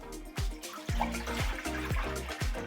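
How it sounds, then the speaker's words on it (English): Tap water runs into the removable water tank of a De'Longhi ECAM350.15.B bean-to-cup coffee machine, a steady close splashing stream with gurgling bursts and a rising pitch as the tank fills. "We're going to fill up the water tank to the max level."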